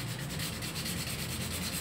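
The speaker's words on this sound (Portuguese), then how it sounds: "você vai lixando bem a peça, tá? Deixando ela toda fosca" Hand sanding of a small model pickup part, a miniature Montana, to take off its shine before painting; a steady, even rubbing scrape of sandpaper, close and continuous for under two seconds with no voices.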